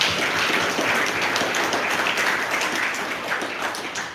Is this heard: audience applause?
yes